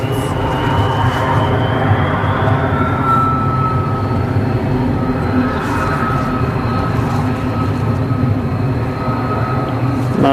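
An Emirates airliner arriving at Manchester Airport makes a loud, steady jet roar with a rising engine whine, holding for about ten seconds without talk.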